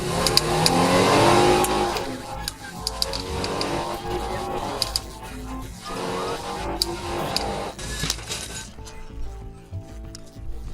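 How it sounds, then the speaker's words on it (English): A police patrol car speeding at about 74 mph on a 25 mph road: a steady, loud engine and road roar with rising revs, recorded from inside the car, with clinks and thumps, fading toward the end. "patrol vehicle was speeding at approximately 74 miles per hour"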